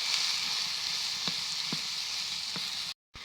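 Saag greens sizzling in a wok, a bright, steady frying hiss with a few soft stirring taps, close and continuous, then cutting out abruptly near the end.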